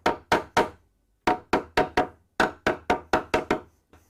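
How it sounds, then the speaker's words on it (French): Light hammer taps finishing the assembly of an IKEA BILLY bookcase, a clear series of about fourteen sharp knocks in quick groups of three or four, close up with no talk. "à la limite, on termine avec un petit coup de marteau."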